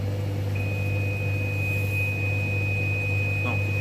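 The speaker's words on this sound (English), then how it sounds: "my washer's done. That's what that beeping is." A washing machine sounds a single long, steady electronic beep when its cycle finishes, ringing out clearly over a constant low engine-like hum.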